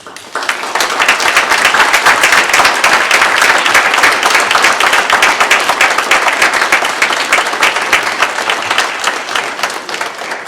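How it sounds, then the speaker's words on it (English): Loud, sustained applause from a crowd at a Veterans Day ceremony, dense clapping that starts abruptly and continues strongly, tapering only slightly over about ten seconds. "please join me in a round of applause for our veterans, for our American heroes."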